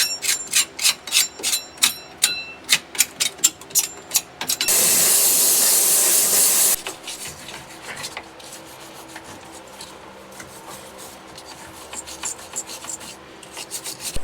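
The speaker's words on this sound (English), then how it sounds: "Let's clean this battery up and make it look a lot nicer and get all that corrosion off of it" Corrosion is scrubbed off a Polaris Ranger 1000 battery with rhythmic brushing strokes, then a sustained loud spray hiss for about two seconds, followed by quieter scraping and rubbing.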